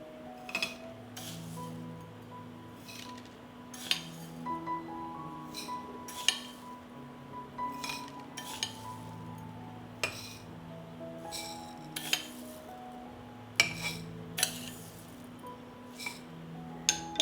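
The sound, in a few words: spoonfuls of rice added to glass jars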